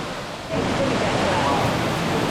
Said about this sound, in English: Walking under the waterfall.